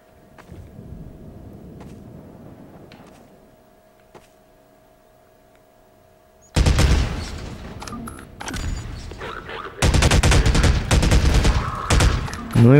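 Gunfire in the original Xbox Half-Life 2: after a quieter stretch of faint ambient clicks, loud bursts of rapid shots erupt and return in two heavy volleys, close and dense, with no talk over them.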